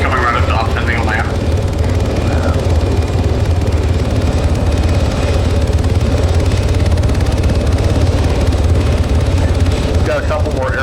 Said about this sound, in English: Got a couple more air contacts inbound. Looks like helicopters.